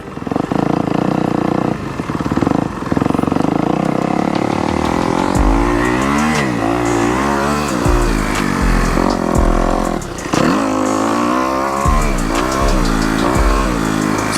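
A dirt bike rides a sighting lap on a Florida motocross track, its engine loud and close, revving up and down through repeated throttle surges and gear changes with rising and falling pitch, with no talk over it.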